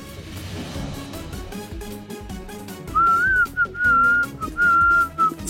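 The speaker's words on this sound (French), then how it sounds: "Si vous osez siffler encore." A person whistles a bright melodic tune in three clear phrases over a busy bed of background music, the whistle loud and close once it enters about halfway through.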